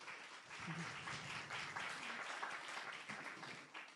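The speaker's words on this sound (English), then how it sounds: "I applaud them, and I wish you to applaud them" An audience at a G20 Women 20 (W20) delegates' gathering breaks into steady, dense applause, fairly quiet and distant-sounding, with a few voices faintly mixed in.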